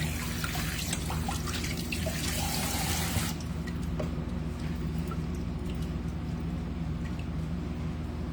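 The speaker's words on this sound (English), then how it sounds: "we're going to go ahead and get this fish here and have it clean, but I'm going to rinse it off again" A whole yellow fish is rinsed under a running kitchen tap. The water gushes and splashes steadily for about three seconds, then drops to quieter trickling and dripping.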